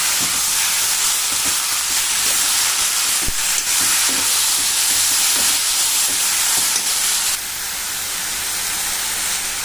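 Cluster beans tossed into a pan of onion and tomato sizzle and hiss loudly in a continuous bright crackle, with a few spoon scrapes as they are stirred; the sizzle drops slightly near the end.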